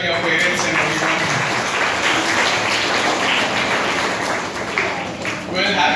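Students, parents and guests clapping at a school prize-giving function: a loud, dense wash of applause filling the hall, steady throughout with some crowd voices mixed in.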